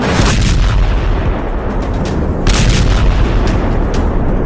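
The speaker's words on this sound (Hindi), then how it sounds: "हथियार तान दिए गए हैं। बारूदी तांडव शुरू हो चुका है।" Heavy artillery and gunfire from war footage of a Gulf conflict involving Iran and America rumble loudly in dense, overlapping booms and cracks, a sustained barrage with no speech.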